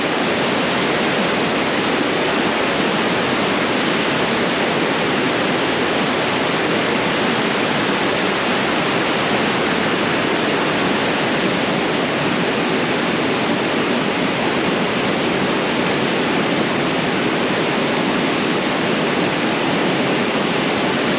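Steady, loud roar of the Niagara River's whitewater rapids, the rushing current pouring continuously and close with no voices, a dense unbroken wash of churning water throughout.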